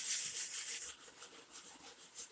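Rolled self-adhesive sandpaper rubs against a workpiece in short back-and-forth strokes, a soft, faint, rhythmic scratching heard close and alone.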